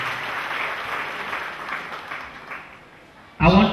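A church congregation applauds for Jesus in steady, moderately loud, broadband clapping that fills most of the moment, then gives way to a sudden, louder burst of voices near the end.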